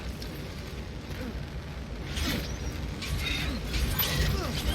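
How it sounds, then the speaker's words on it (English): A flamethrower sound effect stuck on in a spider-themed video game gives a steady, roaring broadband hiss that runs unbroken through the whole stretch and swells slightly louder toward the end. "The flamethrower sound effect is stuck."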